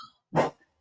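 A dog gives a single short, sharp bark nearby, surrounded by near silence apart from a faint murmur beforehand.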